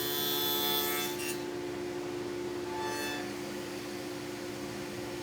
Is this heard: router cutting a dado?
yes